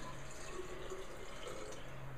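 Water poured from a beaker into a measuring setup, a steady soft trickling and splashing stream heard alone, fairly quiet and close.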